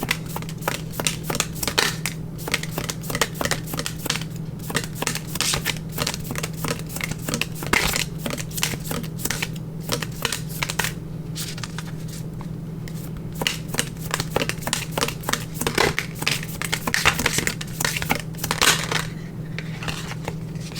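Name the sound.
shuffling an oracle card deck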